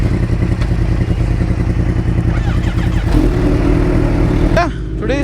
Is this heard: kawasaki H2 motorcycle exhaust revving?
yes